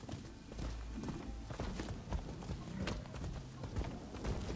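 Horse hooves clip-clopping in the video game Rise of the Ronin, a close, irregular series of hoof clops over a muffled ambient background, fairly steady throughout.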